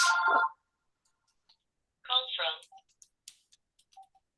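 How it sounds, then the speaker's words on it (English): A phone rings with an incoming call: one short electronic ring burst, a pause, then a longer warbling ring, followed by soft scattered clicks and beeps in an otherwise quiet room. "it's always get a phone call when you don't want one."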